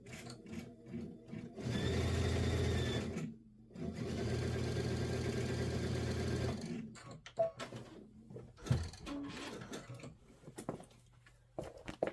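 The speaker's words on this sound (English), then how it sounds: "I'm going to convert my machine over to sewing. We're going to sew this all together." An embroidery machine switched over to sewing mode stitches pieces of a Kimberbell door decor project in a 5x7 hoop, running in two steady, close, whirring bursts separated by a short pause, then falling quiet to soft handling noises.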